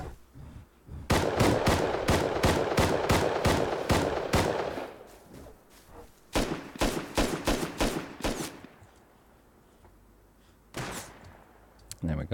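Bursts of rapid automatic gunfire from a bot in the survival game Rust, sharp repeated shots in quick strings with short pauses between volleys, loud and close.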